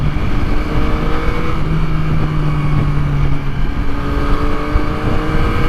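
A Yamaha MT-09 motorcycle is ridden on a commute, its engine droning loud and close with wind rush, the pitch rising and falling slightly as it accelerates.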